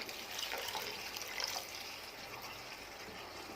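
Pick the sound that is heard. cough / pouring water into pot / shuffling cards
pouring water into pot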